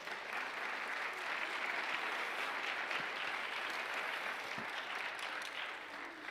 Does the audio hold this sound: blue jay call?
no